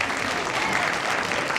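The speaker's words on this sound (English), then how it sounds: "Let's give them a round of applause one more time." Dense crowd applause at a school cosmetology fashion show, a short burst of steady clapping from the audience, loud and continuous throughout.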